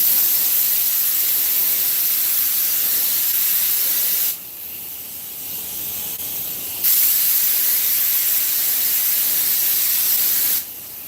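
A spray gun shoots paint onto parts in a workshop, making a loud, broad close hiss in long continuous passes. The spray drops off for a couple of seconds, resumes, then drops again at the end.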